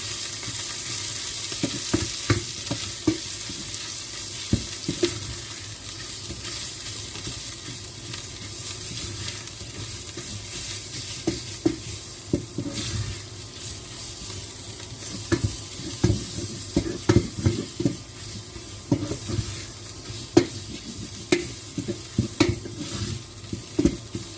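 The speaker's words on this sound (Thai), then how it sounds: "ผัดไปสักพักค่ะ ให้แกงเรามีกลิ่นหอมนะคะ" Massaman curry paste being stir-fried in a pan, a steady close sizzle broken by irregular scraping clicks of a spatula against the metal, with no voices.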